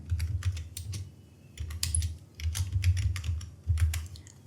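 Typing on a computer keyboard while entering text in an email signature editor, with quick clusters of close, crisp key clicks separated by short pauses, alone and with no talk.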